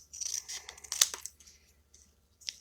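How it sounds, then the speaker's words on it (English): Scissors fussy cut a small piece of paper for a handmade greeting card, giving a few quiet, close snips in a short cluster before fading to near silence. "We'll just fussy cut this out."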